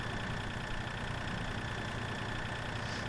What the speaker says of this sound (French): vous vous retrouvez avec le bruit du tracteur en permanence dans les oreilles.